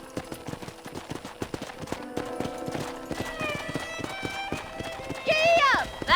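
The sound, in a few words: horse galloping in video game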